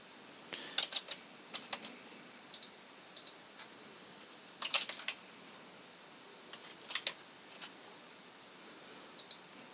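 Keys clatter on a computer keyboard as an admin username is typed during a WordPress install, faint light clicks in short uneven bursts with gaps between, close but quiet.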